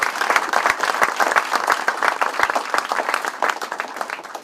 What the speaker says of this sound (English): Let's give them a round of applause for the great work they do.